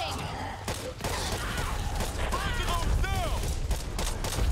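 Gunfire in the video game Back 4 Blood, bursts of shots and thumps mixed with game effects and swooping tones, loud and busy under voices talking.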